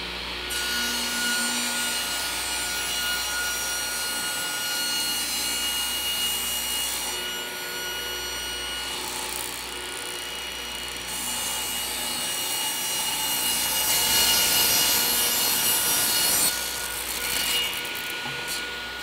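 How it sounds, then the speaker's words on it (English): A table saw rips wood stock to 2 3/8-inch width for the frames of a 23-foot V-bottom skiff, giving a steady, loud whine and cutting roar with no talk throughout. "I'm going to do some ripping on the table saw"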